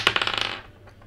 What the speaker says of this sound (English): let's roll the dice, see how many times we'll be shuffling the teams and the names.